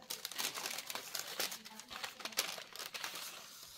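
A plastic bag rustles and crinkles continuously at close range while an Etsy package is unpacked, with irregular crackling bursts and no talking.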